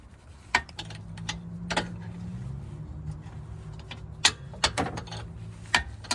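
Wrench work on a rear control arm bolt of a Cadillac XTS, with two wrenches stacked for extra torque: sharp metallic clicks and ratcheting ticks come in scattered bursts over a low background hum, close by, with no talk.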